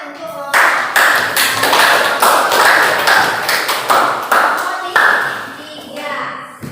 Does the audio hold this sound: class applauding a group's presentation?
yes